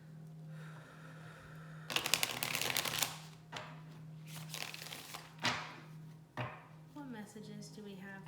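Tarot cards being shuffled in several quick riffling bursts, crisp papery rustles that start and stop between short pauses, with a steady low hum underneath and a voice talking near the end.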